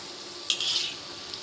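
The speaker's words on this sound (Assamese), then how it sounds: "কম জুইত লাহে লাহে ভাজি থাকিব" Moong dal pakoras frying slowly in oil over low heat, a soft steady sizzle with a brief louder burst of bubbling partway through, close by with no talk.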